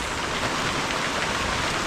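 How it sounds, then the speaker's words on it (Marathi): Steady, dense monsoon rain pours down continuously in a village, a close hissing wash with no voices. "मित्रांनो पाऊस चालू झालाय"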